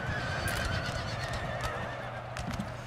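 In Napoleon: Total War, a horse from a unit of British horse guards cavalry gives a loud, drawn-out whinny amid clattering hooves and a dense battle din, with no one talking.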